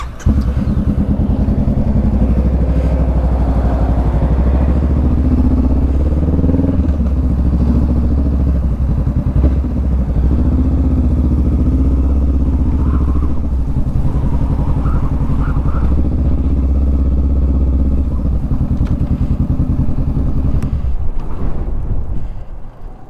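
A motorcycle engine drones steadily and loudly throughout, with heavy wind buffeting the microphone as the bike rides along, easing off near the end.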